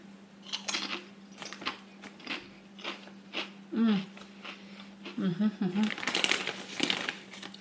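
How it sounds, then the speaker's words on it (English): Crisp crunching of potato chips in several bursts, close to the mic, with bag crinkling and a voice talking in between. "Let's try these chips"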